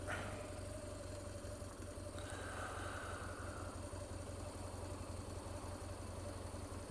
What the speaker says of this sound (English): whilst riding my motorcycle, typically on my commute to the office in Sydney